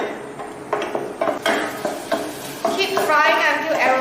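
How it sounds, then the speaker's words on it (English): Tomato mixture frying in a pan while being stirred, with repeated scraping strokes of a utensil against the pan over a soft continuous sizzle. "Keep frying until aromatic."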